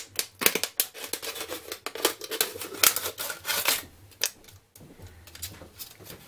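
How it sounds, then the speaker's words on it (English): Knife cutting the bottom off a plastic bottle, close crackling, crunching and snapping plastic in uneven bursts with a brief pause before more sawing scrapes. "cut the bottom off it"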